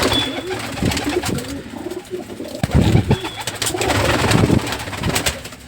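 Domestic pigeons coo up close around a nest where a hen pigeon has just hatched two chicks, the cooing fairly loud with soft rustling and a few brief chirps.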